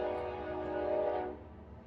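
A train passing near a brewery gives off a steady, sustained horn-like tone that holds for over a second and then fades, with no talk over it.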